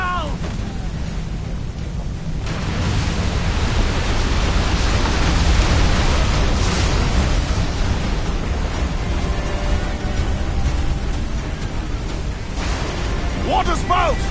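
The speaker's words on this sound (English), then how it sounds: "Water spout!" A water spout roars at sea in the Assassin's Creed Black Flag video game. The loud, broad rushing roar swells and persists for many seconds, with brief voices at the edges.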